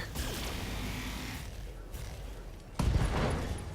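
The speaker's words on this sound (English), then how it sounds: "LRM ammo explosion" Mech weapons fire and a long-range missile ammo explosion in the BattleTech video game, with dense rumbling combat noise that drops briefly before a loud, sharp blast near the end.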